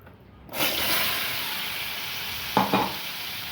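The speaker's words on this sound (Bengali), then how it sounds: "কড়ার তেলটা গরম হয়ে গেছে, এবারে আমি ওলটাকে ছেড়ে দেব।" Pieces of elephant foot yam drop into hot oil in a kadai, setting off a loud, steady frying sizzle after a brief quiet start, with a couple of soft clinks near the end.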